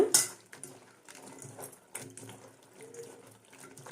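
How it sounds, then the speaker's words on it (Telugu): Cut broad bean (flat bean) pieces being rinsed by hand in a bowl of water, with soft splashes, sloshing and light clinks of a vessel close by, no talking. "ఈ వాటర్ని చిక్కుడుగాయలు ముక్కలు వేసేసుకొని ఇంకా టూ టైమ్స్ అయితే వీటిని ఇలాగ వాష్ చేసుకోవాలన్నమాట"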